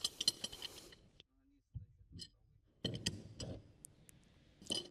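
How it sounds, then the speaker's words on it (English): An adjustable wrench turns the large left-hand-threaded lower nut on the control arm of a 2007 Subaru Impreza GD, giving close, intermittent metallic creaks, clicks and scrapes in short irregular bursts. "use the adjustable wrench to tighten the large lower nut"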